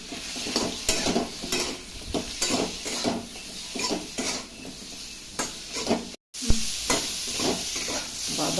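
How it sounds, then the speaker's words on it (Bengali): Spices sizzle and fry in a pan for khichuri while a spoon stirs and scrapes repeatedly against the metal in steady strokes, close and clear with no talking. "ভালো করে ভেজে নিব।"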